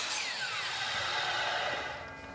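A power saw cuts a small shoe moulding end cap at an angle, giving a short, loud whining buzz with a falling pitch that fades as the cut ends, close by with no talking.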